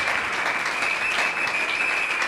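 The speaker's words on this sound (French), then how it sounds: "Acclamons Jésus, acclamons Jésus. Faites la Jésus Christ maboko" A church congregation at a Sunday service claps in sustained, dense applause, close and steady for the whole stretch with no break.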